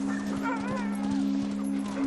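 Arctic sled dogs yipping and whimpering in a wavering, high chorus, moderately near, over a loud steady mechanical hum.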